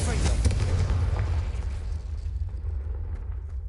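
A Confringo blast spell in the Hogwarts video game goes off as a loud, booming explosion that rumbles heavily in the low end and slowly fades over a few seconds, with a voice briefly present.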